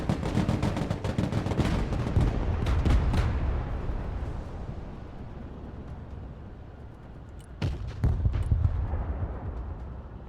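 Heavy gunfire in the Broken Arrow war game strikes a Bradley armored vehicle: a rapid burst of loud, close shots dies into a rumbling tail, then a second short burst follows.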